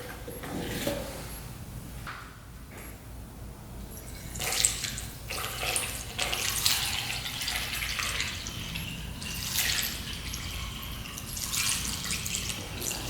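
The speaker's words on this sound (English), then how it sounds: "hose is on" Water runs from a hose while checking a 1975 two-stroke triple motorcycle for leaks, a steady broad splashing rush that swells and eases with some spattering, close by, with no talk.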